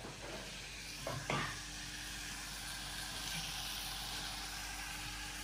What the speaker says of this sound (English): whilst that is cooking slowly, we're gonna cook some bacon.